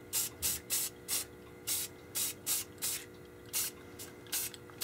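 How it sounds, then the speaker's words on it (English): Short hissing bursts from a can of black spray paint repeat in a quick, uneven rhythm, about a dozen puffs close by with quiet pauses between. "Right now I'm going to spray paint the steps black."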